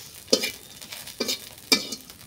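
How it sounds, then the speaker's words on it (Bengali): Dried red chilies frying in a pan with jute leaves, heard as three short, quiet bursts of stirring and sizzling spaced about a second apart. "শুকনো মরিচ ভাজিয়ে।"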